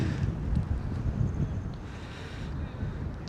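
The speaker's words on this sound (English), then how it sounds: "it's windy" Wind blows outdoors in San Francisco, buffeting the microphone with a low, gusty rumble that rises and falls over a few seconds, fairly quiet and continuous.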